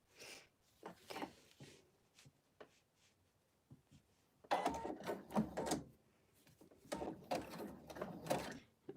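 A sewing machine stitches a decorative blanket stitch on fabric for a stocking ornament, running in short mechanical bursts of rapid clattering with pauses between, quiet and close.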